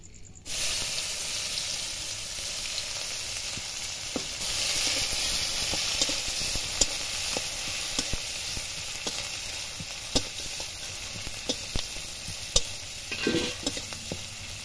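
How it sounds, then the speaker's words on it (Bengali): Whole garam masala, a bay leaf and chopped onion fry in hot oil in a kadai, a continuous loud sizzle broken by occasional stirring scrapes and pops. "এবার দেব গোটা গরম মশলা, একটা তেজপাতা, কুচানো পেঁয়াজ,"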